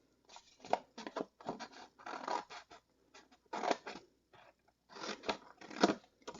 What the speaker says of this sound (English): we're going to take a little snip off on the outside edge